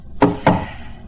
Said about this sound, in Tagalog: Hinampas mo ang pinto ko?